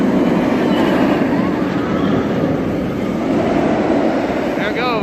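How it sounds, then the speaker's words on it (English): At Six Flags Over Texas on the Fourth of July, the Batman The Ride roller coaster train rushes down a hill, a loud continuous roar that fills the whole stretch. "I'm going to try and get you a look at this train as it comes down the hill here."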